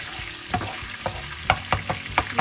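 Garlic frying in hot oil for a mixed vegetable dish, a soft sizzle punctuated by repeated sharp clicks and scrapes of a spoon stirring in the pan, close and without talk.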